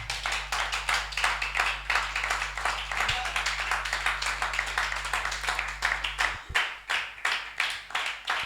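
A church congregation claps in a steady rhythmic beat during worship, sustained and fairly close, with a low hum underneath.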